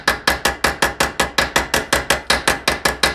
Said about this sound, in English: and we take our little ball peen hammer